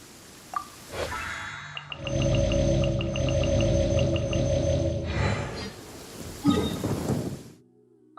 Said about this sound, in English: Rain! I hate rain.